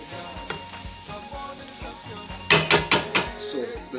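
Sauce sizzles and spits steadily in a pan for a Christmas noodle dish, with a run of four or five sharp clattering scrapes near the end and a voice talking over it.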